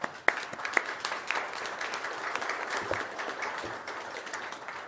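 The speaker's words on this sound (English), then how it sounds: "Give them a big round of applause." A gathering at an El Cajon council meeting applauds parks and recreation staff, with scattered claps becoming a fairly quiet, distant wash of clapping that carries on evenly.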